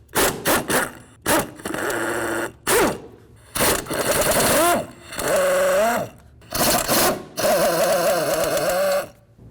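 A power tool, likely a ratchet or impact driver, removes the transmission mount bolts on a 2007-2017 Jeep Compass, a close series of loud, short whirring bursts with pitch sweeps, separated by brief pauses.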